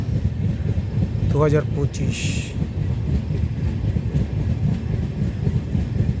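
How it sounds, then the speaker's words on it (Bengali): The Himgiri Express from Howrah rolls on through Punjab with a loud, steady rumble and clatter. A voice talks over the noise from start to finish. "ট্রেন এখন পাঞ্জাবে ঢুকে গেছে এবং সঠিক টাইমে ট্রেন চলছে।"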